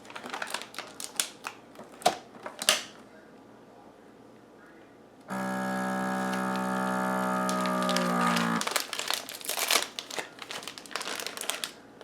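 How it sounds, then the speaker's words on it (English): A vacuum sealer closing a bag of pork chops: plastic crinkles and taps, then a loud, steady motor hum for about three seconds that cuts off, followed by more rustling and clicking of the bag. "Okay, so we're vacuum sealing our chops."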